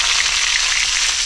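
Garlic and dried red chilies hitting hot oil for a tadka, a loud, steady, close-up sizzle with no voices.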